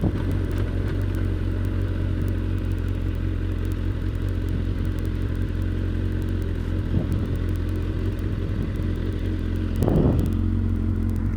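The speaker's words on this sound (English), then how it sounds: "the exhaust system is the same Gsxr, just the standard exhaust, which is pretty decent. Got a nice little sound to it." A 2006 Suzuki GSX-R 1000 with its standard exhaust idles and runs in a steady low rumble throughout, close and even, with a brief rise in revs near the end and no talking.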